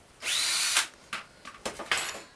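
A power drill drives screws, with one long high whine at the start followed by several short, quick bursts of the motor, close and loud against a quiet background.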